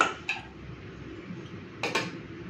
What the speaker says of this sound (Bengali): চলুন ভাতটা বেড়ে নিই